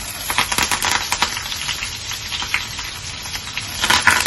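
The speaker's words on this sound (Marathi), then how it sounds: "आता कांदा टाकून घेते." Onion sizzles in about two spoonfuls of hot oil in a pan for kadhi, giving a steady close crackle with quick popping spatters throughout and no voices.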